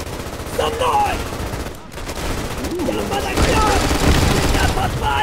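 World War II gunfire during the Volga River crossing at Stalingrad in the game Easy Red II: bursts of rifle and machine-gun shots crackle continuously, close and loud, with someone talking over the battle.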